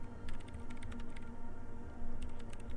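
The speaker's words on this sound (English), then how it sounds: "She's behind the keyboard now, typing in some numbers that only she understands." Rapid clatter of keys as someone types on a computer keyboard in the game Disco Elysium, a dense, continuous run of clicks over a steady low background hum, with no talking.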